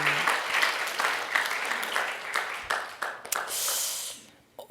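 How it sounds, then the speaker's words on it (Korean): Congregation applause for a returning mission team at a church service, a dense, steady burst of clapping that tapers off at the end, with brief voices near the close. "우리 선교팀들에게 박수 한번 부탁합니다"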